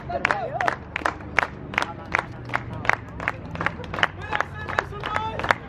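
A crowd at a Las Vegas event claps in a steady, rhythmic beat and cheers, with sharp regular claps over a continuous murmur of voices and shouting throughout.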